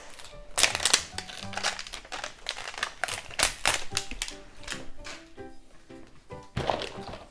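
Crinkly plastic packaging of an LOL Surprise doll being torn open and handled at close range, producing rapid uneven crackles and rustles that come in dense bursts throughout.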